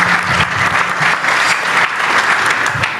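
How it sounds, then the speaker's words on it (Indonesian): Loud, sustained applause from a large seated audience at a religious talk, crowd clapping densely and evenly for the questioners with no pauses, close and full. "kita kasih tepuk tangan yang sekarang untuk para penanya-penanya tadi"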